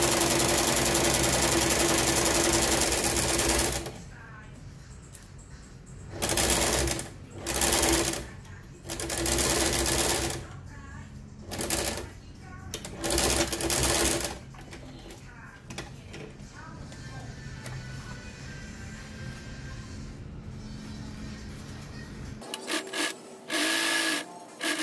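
A sewing machine stitches the seams of a corset belt with iron-on interfacing, loud rapid mechanical whirring in several separate bursts of varying length with short pauses between them.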